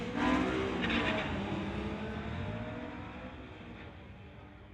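Cars at a street-legal drag race, an Acura against a Honda, roar off the line with a loud burst of acceleration and tire noise. The sound then fades steadily as they pull away.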